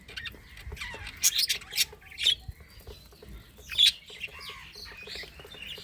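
Budgies and lovebirds squawking and chirping in a group, a run of sharp, close calls in irregular bursts.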